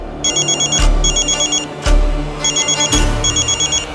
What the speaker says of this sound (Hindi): उनका फोन आ रहा है